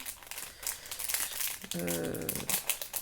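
A wrapped art-supply product package is crinkled and torn open up close, giving bright rustling plastic that rises to a crisp tear and then more crinkling.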